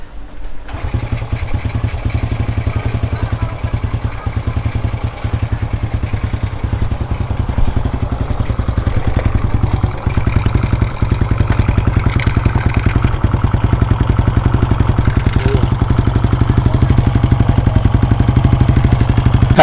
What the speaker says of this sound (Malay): Jadi kita dengarlah bunyi enjin dia.